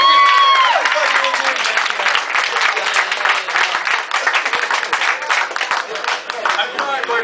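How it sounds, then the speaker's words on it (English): A stand-up comedy audience breaks into sustained applause, many hands clapping densely, with a voice speaking briefly at the start. "can we get a round of applause for this girl right here?"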